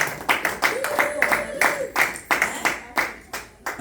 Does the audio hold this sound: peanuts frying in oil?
no